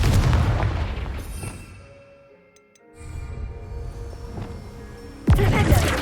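A Confringo blasting spell bursts in Hogwarts Legacy, a rumbling blast that fades into a near-silent lull, followed by ringing magical tones and a second sharp boom at the end.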